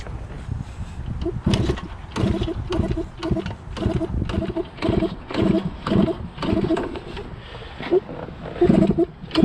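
Old Yamaha RD60 motorcycle, a barn find with a small two-stroke engine, cranked and coughing after years of sitting, giving loud uneven pulsing bursts of sputtering and revving that start and stall repeatedly, close by.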